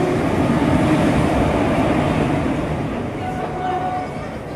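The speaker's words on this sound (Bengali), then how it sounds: "তো এখন আমরা কিন্তু ট্রেনে উঠে পড়েছি, আর ট্রেন ছেড়েও দিয়েছে।" A passenger train that has just pulled out rolls along in a steady, loud rumble heard from inside, with people talking over it and the noise easing slightly near the end.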